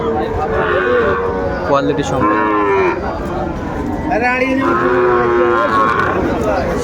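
Bull calves moo loudly and repeatedly at a cattle market, several drawn-out bellows close by, with faint voices and crowd chatter underneath.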